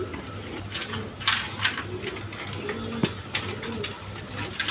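Pigeons kept for sale coo softly and repeatedly nearby over steady background noise, with a few faint rustles and flutters mixed in.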